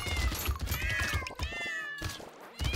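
Cat-paw weapon attacks in Brotato produce a rapid stream of overlapping meows over thumping combat sounds, loud and busy, with a short lull near the end before the meowing resumes.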